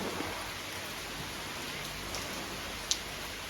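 Steady rain falls across a cattle farm, a soft, even hiss of drops on surfaces with one brief sharp tap near the end and no voices.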